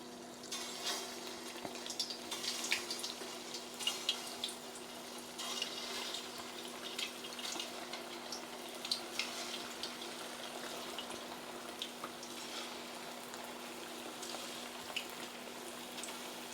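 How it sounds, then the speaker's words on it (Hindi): Koftas frying in hot oil in a home kitchen, giving a quiet, steady sizzle with small scattered crackles and pops over a faint constant hum. "तो मैं जो ना कोफ्ते बिस्मिल्लाहिर्रहमानिर्रहीम करके फ्राई करना शुरू करती हूँ"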